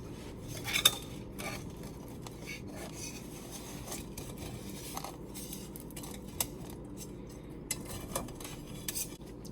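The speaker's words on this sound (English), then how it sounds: "So I got my spatula here just to help separate it from the bottom." A spatula scrapes and rasps along the bottom of a non-stick skillet to loosen crispy rice tahdig. The scraping is steady and close, with a few sharper metallic clicks throughout.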